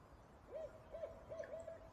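Owls hooting, a faint string of about four soft, rising and falling hoots in quick succession against quiet background hiss.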